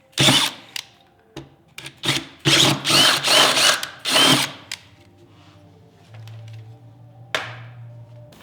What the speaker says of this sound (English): So now we're going to drill an even bigger hole into the body of my vehicle.